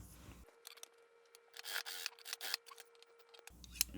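Scissors cut fabric while a two-tone raglan dress is sewn, with the neckband and cuffs being trimmed. Close, crisp snipping and rubbing blades are heard in a cluster of short strokes over a quiet background.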